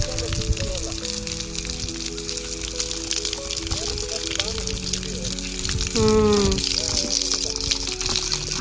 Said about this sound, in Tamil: அங்கே பாருங்கள், தண்ணி அப்படியே வேஸ்ட்டாக போயிட்டுருக்கு